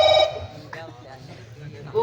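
A phone ringing loudly with a bright electronic tone at the very start, cutting off quickly as people talk over a low hum.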